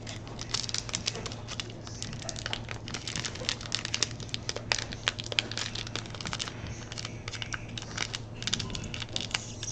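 Plastic wrap on a Yu-Gi-Oh! Legend of the Crystal Beasts structure deck crinkles and tears close up in a continuous run of sharp crackles and rustles over a low steady hum, with no talking.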